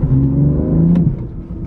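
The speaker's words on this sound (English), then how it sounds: "it makes a totally different noise, the exhaust" Car engine revving through an M Performance exhaust, a loud, steady deep thrum close by that holds for over a second and then eases slightly.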